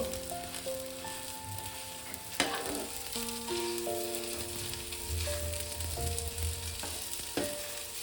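Boiled, mashed potato tumbles into a pan of frying onion and green chilli, with steady oil sizzle throughout and a soft thud of the mash landing, plus light scraping, while background music plays.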